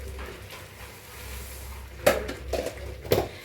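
A pot of lentils with tomatoes is set down on a stove, giving a few clanking metal knocks that sound close and moderately loud over a faint kitchen hum.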